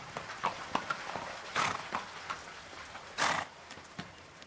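A horse's hooves clip-clop in irregular steps, with a few louder heavier thuds standing out, close by and with no talk.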